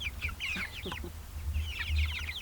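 Chickens cluck in a coop holding about eighteen birds, with several close, fairly quiet calls over a steady low rumble.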